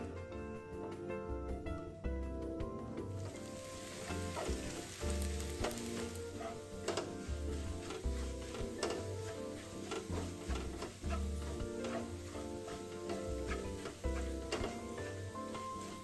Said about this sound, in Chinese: 炉开中火，倒入食用油50克，小红葱80克，切片后倒入爆香。